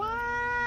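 A cat gives a single drawn-out meow, clear and tonal, close and fairly loud, lasting under a second with no talk over it.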